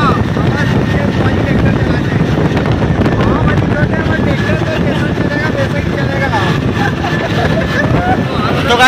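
A tractor engine rumbles and drones loudly and continuously while driving, with steady low mechanical vibration and rattling, occasionally overlaid by voices.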